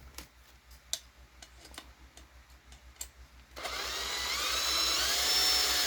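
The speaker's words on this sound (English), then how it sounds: "So I'm not going all the way with the electric drill." Electric drill driving screws into the rear bulkhead of a Losi 22S drag RC car during a mid-motor conversion, a steady motor whine starting partway through after a few sharp ticks, close and loud.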